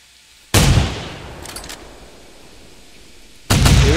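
Hunting rifle shots in the Hunter Primal dinosaur-hunting game, two loud sharp cracks about three seconds apart, each followed by a long fading echo.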